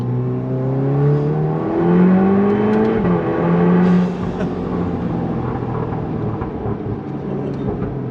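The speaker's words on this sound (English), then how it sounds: "I'll show you guys kind of what it sounds like without the DSG pop" Mk7 Volkswagen Golf R with a custom exhaust, in Eco drivetrain mode and without DSG pops, revving up and down several times, loud and close, with a deep rising and falling drone and no talking.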